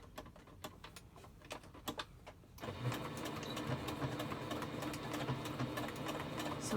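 A sewing machine stitches a fabric face mask with a nose wire at close range. Faint ticks and handling noises come first, then a steady mechanical whirr with rapid needle clatter runs to the end.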